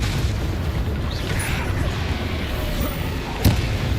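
A spell blast from the Hogwarts Legacy video game: a dense, sustained rumbling roar of magic and combat noise, with one sharp, brief burst near the end.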